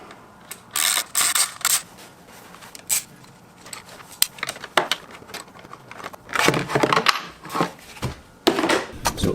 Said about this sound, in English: I'm gonna take this side cover off right here as well.